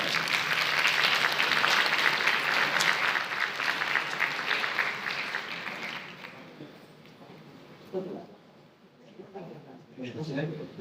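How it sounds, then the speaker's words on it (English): Audience applause for a presenter at a labour market forum, loud and sustained at first, then thinning out and fading into scattered claps and murmur toward the end. "another applause for our presenter"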